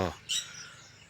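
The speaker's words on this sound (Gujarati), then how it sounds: "બહુ જ સરસ મોર અને કાબરનો અવાજ તમે સાંભળી શકો છો" A single sharp bird call, from a peacock or myna, rings out briefly right after a voice trails off, with quiet outdoor background.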